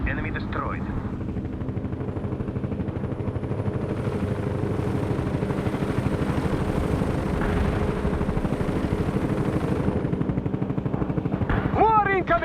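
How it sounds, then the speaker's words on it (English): Artillery and gunfire rumble and rattle without pause in a World in Conflict battle, forming a dense, steady barrage with brief radio-like blips at the start and end. "Artillery strike on the way. Heavy fire support here."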